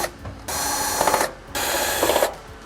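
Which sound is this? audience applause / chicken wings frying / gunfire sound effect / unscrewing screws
unscrewing screws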